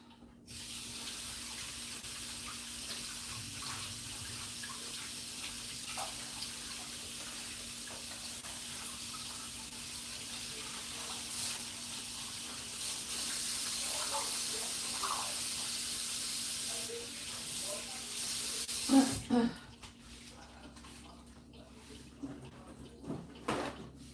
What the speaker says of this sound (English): Let me just wash this off.